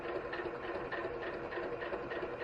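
A sewing machine stitches across a quilt in a quick, even chatter of needle strokes, fairly faint and steady throughout.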